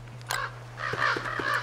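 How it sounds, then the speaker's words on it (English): Crows cawing in the video game Don't Starve: one harsh caw, a pause, then a run of four quick caws in a row over a steady low background hum, with no speech. "Birds around here are insane."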